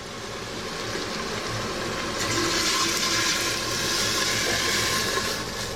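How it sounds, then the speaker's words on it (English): Water pours steadily into a pot over seared redfish pieces, a continuous rushing splash building in strength, near and alone with no talk. "we're gonna pour in enough water to cover the fish"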